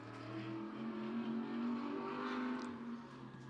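A modified race car laps Monadnock Speedway, its engine holding a steady, loud roar with a rising and falling drone as it powers through the turn and down the straight, heard alone without talk.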